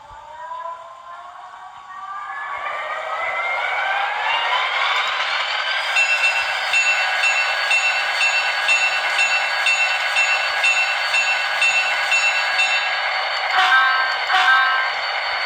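An Atlas model train locomotive with an ESU sound decoder starts up: a synthesized diesel engine whine climbs steadily in pitch over several seconds, then settles into a loud, constant droning idle with a brief horn-like burst near the end.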